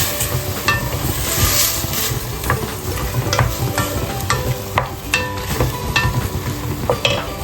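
A spoon stirs a pot of Moroccan harira soup with fresh chopped parsley. It makes repeated scraping clicks against the pot over a constant sizzling bubble, close and fairly loud, with no voices.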